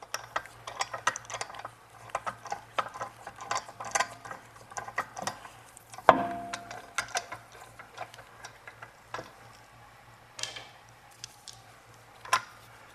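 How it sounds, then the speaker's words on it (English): A ratchet clicks in quick runs while wheel bolts are tightened after a rear brake install on an MK7 Volkswagen GTI, close metallic ticks with one sharper clank midway. "put our bolt on"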